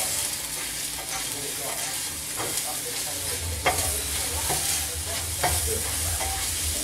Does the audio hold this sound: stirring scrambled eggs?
yes